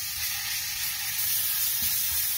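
Ground garlic and ginger paste sizzles steadily in a pan, a close, even crackling hiss with faint stirring scrapes and no talk.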